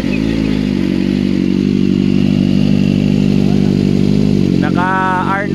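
Kawasaki ZX-4RR motorcycle fitted with an R9 built-in exhaust, idling with a steady throbbing engine note nearby, then a quick rising rev near the end, loud and continuous with no talking.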